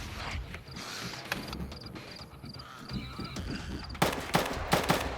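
Gunfire in Star Citizen arrives in scattered shots that are mostly moderate and somewhat distant, then a couple of sharper, louder cracks near the end.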